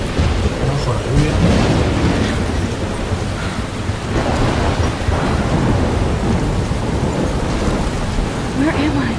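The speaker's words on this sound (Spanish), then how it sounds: "I'm trapped in a storm?" A loud thunderstorm in the video game Life is Strange, with heavy rain pouring steadily and deep rolling thunder swelling and fading, while a voice is heard faintly over it.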